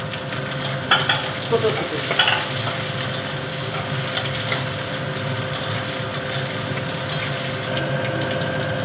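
Chopped tomatoes frying in chicken gravy in a pan, a dense steady sizzle broken by clicks and scrapes of stirring, close up, with a brief spoken remark.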